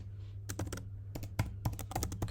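Computer keyboard typing in a quiet room while entering a job title, with irregular bursts of clattering keystrokes, close and clear, no voices.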